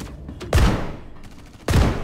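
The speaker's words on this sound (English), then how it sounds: "Grenade launcher." Two heavy blasts from a grenade launcher in a multiplayer PvP video game, each a sharp loud boom with a rumbling tail, about a second apart, close and with no talking.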